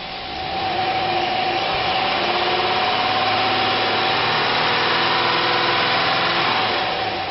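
1998 GMC Sierra 1500 pickup with a 5.7 liter engine and automatic transmission, running with a steady, even drone and a constant hum throughout, fairly loud and close, with nobody talking.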